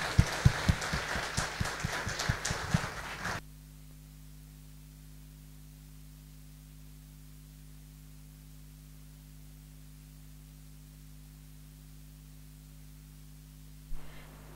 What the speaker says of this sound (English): let us do a big round of applause for all the students for making their parents